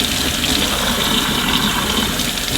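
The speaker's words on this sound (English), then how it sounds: "we're going to fill up our spray bottle" Lukewarm tap water runs steadily into a plastic spray bottle, a loud, even gushing stream that stays continuous throughout with no voices.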